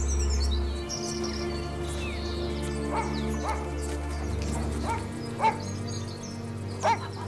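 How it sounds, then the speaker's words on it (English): A farm dog barking on a countryside walk near a small French town, several sharp barks spaced out across the stretch over a low steady rural background with faint bird chirps. "farmer Marcel Lant takes his dog for a walk"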